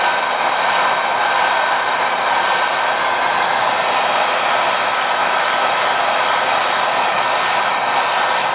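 A heat gun blows hot air onto leftover adhesive on a Motorola Z2 Force screen, a loud, steady, close rushing whoosh with no break and no talking.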